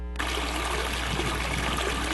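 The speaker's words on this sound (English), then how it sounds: "There's but a trickle of water left in Folsom Lake." A steady trickle of water runs at Folsom Lake, a constant close splashing and gurgling that carries on without pause under a low hum.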